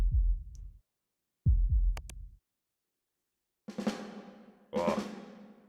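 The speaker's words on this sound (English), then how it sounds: "That heartbeat is really loud, so the game might actually be loud for a minute." A loud, deep heartbeat throbs in a horror video game set on a college campus, paired thumps in low booming bursts separated by silence, followed by two harsher, brighter swells.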